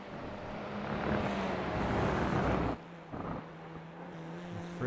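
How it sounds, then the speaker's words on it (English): A racing car engine in a racing video game, the Hungaroring circuit, rises under throttle and then drops off sharply as the driver lifts and coasts through a chicane and S-section, with brief revs between lulls. "Listen to the lifting and coasting all the way through here."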